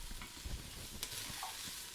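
Garlic sizzling in hot vegetable oil in an Instant Pot for white chicken chili, a steady low frying hiss with a few soft stirring knocks and a brief brighter scrape near the middle.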